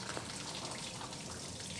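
Coolant draining out through the bottom plugs of a rebuilt 2020 Toyota RAV4 XSE Hybrid, a continuous close hiss of running liquid with faint dripping and splashing throughout, and no talk over it.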